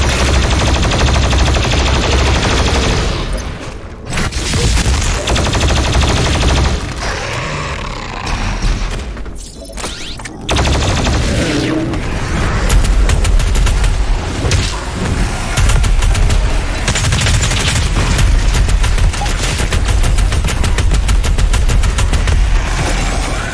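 Sustained turret gunfire in Doom Eternal, loud dense bursts and booming impacts running almost continuously, with a short lull near the middle before the barrage resumes.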